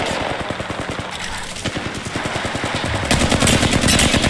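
Rapid automatic gunfire rattles through an Apex Legends firefight, dense bursts of close shots that grow louder and harder toward the end.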